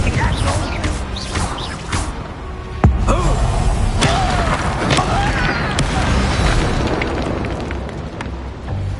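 Explosive spells in Hogwarts Legacy on PS5 fire amid a dense, loud game mix, with a sharp blast near the middle and several dull booms and impacts layered over a constant rumbling score.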